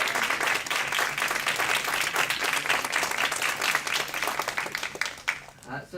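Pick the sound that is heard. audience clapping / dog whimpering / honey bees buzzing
audience clapping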